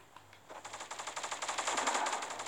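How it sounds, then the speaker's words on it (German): Rapid automatic gunfire in the Fortnite video game, a steady fast burst of shots lasting a couple of seconds, moderately loud and alone with no speech. "Wir werden jetzt schon beschossen."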